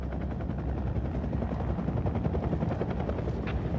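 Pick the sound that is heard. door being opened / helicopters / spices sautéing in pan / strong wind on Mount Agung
helicopters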